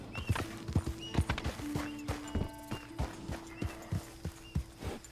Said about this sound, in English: All these beautiful wild horses.